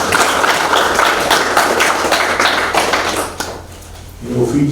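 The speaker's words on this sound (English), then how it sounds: "let's give a huge round of applause to all the 16" Audience applause for women participants at a Fijian business training certificate ceremony, steady dense clapping that fades out near the end.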